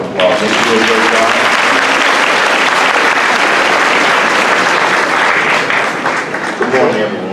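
A graduation audience breaks into a full, loud round of applause for a speaker, a thick continuous roar of clapping that holds steady before easing slightly at the close.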